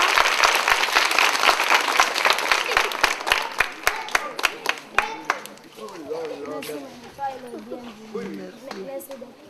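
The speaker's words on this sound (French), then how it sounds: "applaudissez pour la délégation." Brisk applause from a crowd welcoming a delegation at a donation event, sharp claps for about five seconds that then thin out under excited voices and chatter.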